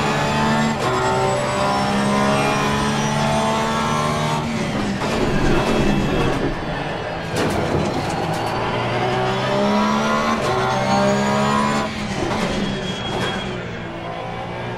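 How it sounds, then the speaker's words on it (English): Porsche GT3 R race car in the racing game Assetto Corsa Competizione at the Hungaroring, its engine loud and close, with repeated climbs through the revs and sharp gear shifts over about fifteen seconds and no talk. "Car sure sounds good though."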